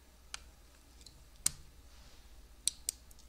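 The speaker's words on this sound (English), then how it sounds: "hear the coil clicking there, okay, every time it connects" A small relay coil wired to positive and negative clicks each time it connects, producing four or five sharp, isolated ticks at irregular intervals against a quiet background.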